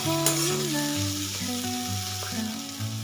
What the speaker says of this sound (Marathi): आता शेंगा पण आपल्याला त्याच्यामध्ये घालून व्यवस्थित मिक्स करून घ्यायच्या